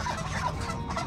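Farm geese, mixed with other range-raised poultry, honk and call in a dense, continuous chorus throughout a brief moment, fairly close by with overlapping calls.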